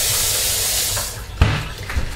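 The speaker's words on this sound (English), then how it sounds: "I'm going to let that water run for just a second" Water running steadily from a kitchen tap into a sink, a close, broad rushing hiss that fades partway through, followed by a couple of soft knocks.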